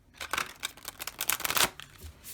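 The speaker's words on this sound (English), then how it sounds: "You have to shuffle them quite a bit to get them all kind of separated fully and not sticking together." A deck of tarot cards is shuffled close up, with quick rustling riffles and slaps in a dense burst of about two seconds that peaks near the end, then settles.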